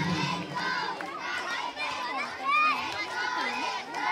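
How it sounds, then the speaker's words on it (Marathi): Crowd of schoolchildren cheering and shouting at an interschool kabaddi final, with girls clapping in encouragement; a loud, continuous mass of excited voices, one cry rising above the rest partway through. "त्यांना प्रोत्साहन देण्यासाठी मुलींचा टाळ्यांचा कडकडाट देखील या ठिकाणी होताना दिसत आहे"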